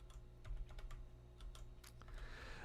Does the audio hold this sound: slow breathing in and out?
no